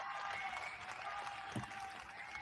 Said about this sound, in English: It needs an applause track.